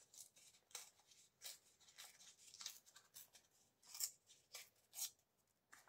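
Scissors snip through material in a quick series of short, sharp cuts, close up and quiet, with brief gaps between the snips.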